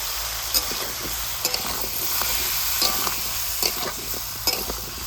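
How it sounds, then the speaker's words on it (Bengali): Ginger paste added to hot oil tempering for a vegetable dish, crackling and sizzling loudly and steadily, with a spoon scraping and tapping the pan every second or so, close by and with no voices. "ফোড়ন দেওয়ার সাথে সাথে আদা বাটাও দিয়ে দেবো"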